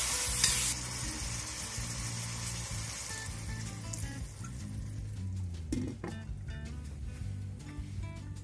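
Cooking wine hits pork frying in a wok, bursting into a loud hiss that settles into steady sizzling with occasional stirring clatter, no voices.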